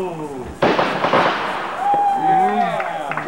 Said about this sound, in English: That's why we set off fireworks.